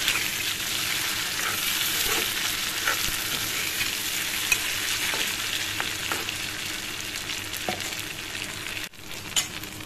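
Small fish frying with cumin in a pan, with steady soft sizzling and occasional scraping as the fish is turned and stirred, continuous and fairly quiet with no talking.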